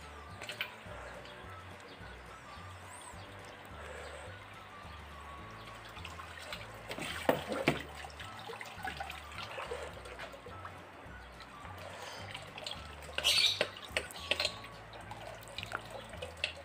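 Running tap water splashes and trickles close by as parts of a Shimizu submersible pump are rinsed, with louder bursts of spattering midway and near the end.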